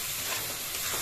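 Beef stir-frying in a pan with a little water cooking off, a loud, steady close-up sizzle and hiss with stirring running throughout.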